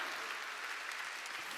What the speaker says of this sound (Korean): 박수치라 이게.